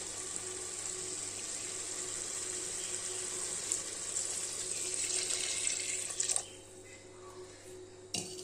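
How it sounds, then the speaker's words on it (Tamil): Coconut milk pours into a cooking pot with drumstick pieces, a steady close liquid splash and gurgle running for several seconds before it tapers off, followed by a brief clink near the end. "இப்போ நம்ம தேங்காய் பால் ஊற்றிக்கலாங்க."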